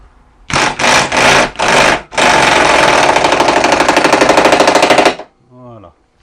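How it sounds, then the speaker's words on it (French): Pneumatic impact wrench on a Chevy Captiva subframe bolt, firing in four short hammering bursts and then one long rattling run of about three seconds, loud and close, ending in silence with a faint voice afterward. "Ça serre à la clé à choc."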